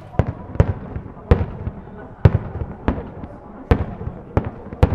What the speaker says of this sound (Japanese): そして夜には花火も上がりますと、こんな感じ。